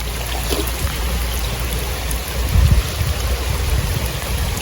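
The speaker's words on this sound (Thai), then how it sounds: "โอ้ยฝนตก" Rain falling onto water beside a boat, a dense steady hiss of drops with a brief heavier patch midway, close and fairly loud with no talk.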